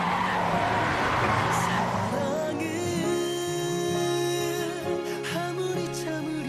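A car skids with a long tire squeal that rises and bends in pitch over a steady engine roar, loud and sustained for several seconds with no talk.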